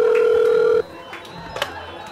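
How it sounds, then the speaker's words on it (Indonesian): An office telephone rings with a steady electronic tone that cuts off abruptly, followed by quiet room noise with faint movement and a brief voice. "satunya bunyi lagi, tolong diangkat ya"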